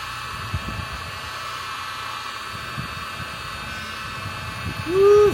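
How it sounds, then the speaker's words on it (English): A heat gun on level 1 blows hot air across the back of a Hellcat car badge. It makes a steady, breathy hiss close by, with a short tonal chirp near the end. "heat gun, backside of the badge once again"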